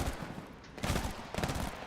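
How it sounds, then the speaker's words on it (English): Rapid bursts of gunfire from a shooter video game crackle in two dense clusters, loud sharp volleys with a brief lull between, no talking over them. "I'm gonna be that guy for a second that doesn't know when to stop pulling the trigger"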